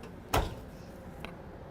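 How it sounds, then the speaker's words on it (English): A deep full-extension drawer in the kitchen of a 2019 Winnebago Sunstar LX 27N motorhome slides open with one sharp, close thump, followed by a faint softer click about a second later. "this one has a really nice full extension drawer that's pretty deep"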